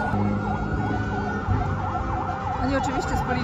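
A wailing police siren sweeps up and down repeatedly over steady traffic rumble at a truck racing event at the Nürburgring, loud and fairly close, with a second siren tone joining near the end.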